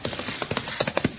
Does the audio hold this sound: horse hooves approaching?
yes